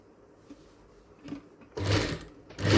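A sewing machine runs close by stitching a blouse, starting with faint handling noises and then breaking into a loud, steady whirring run near the end.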